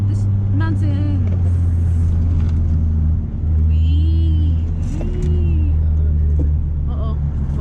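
A Nissan 350Z cruises along a winding canyon road. Its engine hums as a steady low drone from inside the cabin, with rising and falling revs as it shifts. A voice talks and exclaims over the engine throughout.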